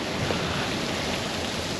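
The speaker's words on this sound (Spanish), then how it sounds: "Esto es una noria hidráulica. Recoge el agua del río, la sube por ahí arriba y la lleva por las acequias hasta los huertos para regar." Water rushes through a working hydraulic water wheel on a river at Casas del Río in the Valencian Community, a noria that lifts river water into irrigation channels. The sound is a steady, close, full-bodied wash with no talk over it.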